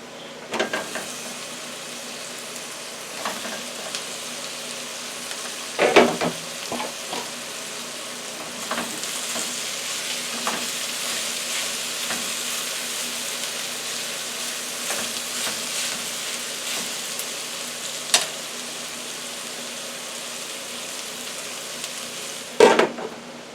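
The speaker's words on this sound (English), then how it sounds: "actually, I'm going to add the broccoli now" Half a bunch of broccoli frying in a pan, a steady, even sizzle throughout with occasional utensil scrapes and clacks against the pan as it is stirred, and no voices.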